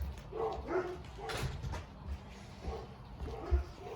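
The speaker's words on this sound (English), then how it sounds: "Those are my dogs." A household's pet dogs give a few short, moderately distant barks and yips, mixed with whimpering, against a quiet indoor background.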